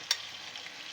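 Chicken pieces frying in a pan for chicken kabsa give off a steady low sizzle, with one brief sharp crackle near the start and no one talking.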